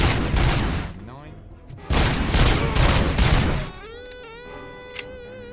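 Heavily distorted electric guitar through a high-gain amp with the master volume pushed chugs in loud, saturated bursts, then a sustained note rings out with wavering feedback-like overtones.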